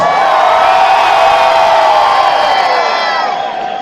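A large crowd shouts and cheers loudly all at once, a dense roar of voices with whoops that holds steady before fading slightly at the end.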